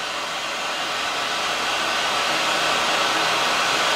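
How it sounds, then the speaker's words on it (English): A heat gun blowing hot air during woodturning finishing work, a steady loud broadband whoosh that rises slightly and holds without pause. "Heat gun."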